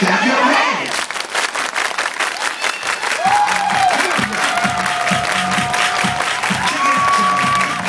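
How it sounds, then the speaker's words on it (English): Dance party crowd in Cambridge clapping hands in a steady rhythmic beat over loud music, with cheering and shouting voices mixed through the hall. "Everybody clap your hands"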